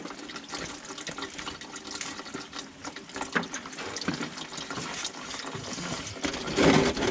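Coolant pours and splashes steadily from a loosened radiator hose on a 1995 BMW 525i E34 with the M50 engine during a thermostat housing replacement, a continuous close trickle with no talk.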